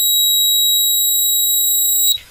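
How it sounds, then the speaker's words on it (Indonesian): A homemade flood warning alarm, triggered when water touches the end of its wire, gives a loud continuous high-pitched electronic tone that holds steady and then cuts off abruptly, alone without talk. "kalau misalkan nanti air menyentuh ujung kabel ini maka alarm akan berbunyi seperti tadi ya teman-teman"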